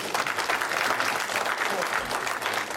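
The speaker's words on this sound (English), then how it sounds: "Another round of applause for our panel." Audience at a business membership meeting applauding a panel, a dense, even round of clapping from a mid-sized crowd that continues throughout, slightly distant in the room.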